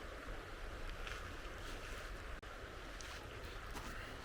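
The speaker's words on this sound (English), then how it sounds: "Cool river." A creek flows with a steady, continuous rushing wash of moving water, even and unbroken, with no voices.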